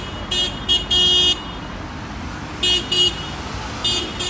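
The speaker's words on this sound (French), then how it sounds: "Là, il klaxonne." Car horn honks in several bursts at a roundabout in Toulouse during a yellow-vest gathering, short toots repeating against a steady wash of traffic noise.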